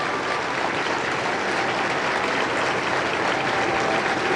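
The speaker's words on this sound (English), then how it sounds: "The crowd broke out in applause at his appearance" Sustained, dense applause from a large crowd at Richard Nixon's funeral greeting the arrival of former presidents, steady and loud throughout with no break.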